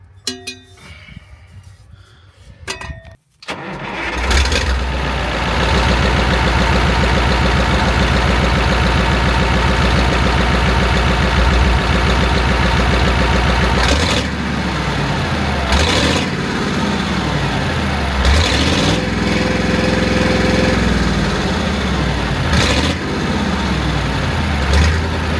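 A car engine on a freshly repaired exhaust with Normac setup cranks and fires, then settles into a loud, steady, deep burbling idle with a few brief blips of revs, close by and alone.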